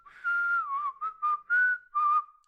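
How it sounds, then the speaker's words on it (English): A person whistles a short tune, several clear sustained and wavering notes in quick succession, close and alone with no talking. "that's spicy whistling right there"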